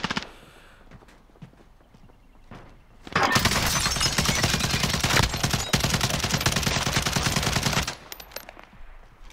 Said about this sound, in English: it's that range where the SA-87 can struggle a bit. You sort of have to tap fire, really.